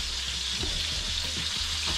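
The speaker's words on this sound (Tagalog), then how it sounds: "Ngayon kumukulo na siya." Curry broth with mussels, carrots and curry paste boiling in a pot, giving a steady dense hiss with scattered soft bubbling pops throughout.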